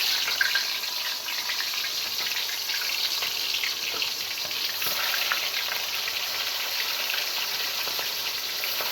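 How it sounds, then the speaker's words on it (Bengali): Marinated broiler chicken fries in hot oil in a wok with a steady, close sizzle that holds even for the whole stretch, with faint clinks and occasional crackles and no talking. "এখন আমি মাংসটাকে ভেজে নেব।"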